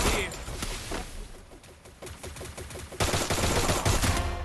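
Gunfire from the Free Fire battle royale game, in a double sniper rifle challenge: a loud burst of shots opens, then a rapid run of sharp cracks, then a denser, heavier barrage near the end.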